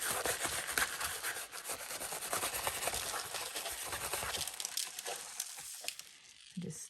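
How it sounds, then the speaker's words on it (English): Dried rice grains rubbed off watercolour paper by hand, a steady dry scratchy rustle with gritty crackle that thins out toward the end. "so we just have to carefully, like we did with the salt, rub off our rice"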